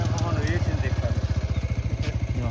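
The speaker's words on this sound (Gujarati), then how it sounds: "બાઇક લઈને આવ્યા" A new motorcycle, brought home from the fields in a Gujarati village, runs with a steady, close, low engine throb in even pulses, while people talk over it.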